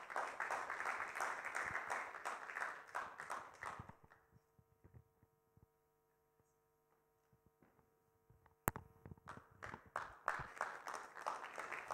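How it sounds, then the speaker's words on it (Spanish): A Spanish-language Sunday church congregation applauds their pastor in a loud burst that drops into a near-silent pause, then the clapping swells back up just as strongly. "Un fuerte aplauso para nuestro pastor"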